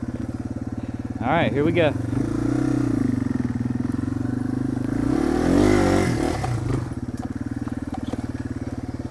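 Motorcycle engine droning steadily up a steep hill, a loud close-up hum with a brief rise in revs midway; someone speaks briefly at the start.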